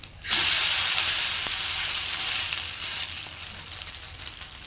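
Adai, a lentil crepe, frying in plenty of hot oil, giving a steady, loud, crackling sizzle that starts abruptly and continues alone without a break.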